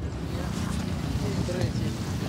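Strong wind whips across a shallow lake and raises big waves, making a continuous roar of gusting air and churning water, steady and fairly loud.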